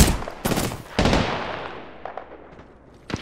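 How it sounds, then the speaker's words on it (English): Gunfire in the battle royale game Apex Legends: a few sharp, loud shots at irregular intervals, the first ones close and punchy, then fainter bursts further off, with game sound underneath. "I'm taking fire."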